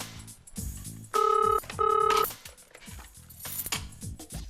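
A telephone bell rings in two loud, evenly spaced electronic bursts amid a busy household scene with clattering and background music.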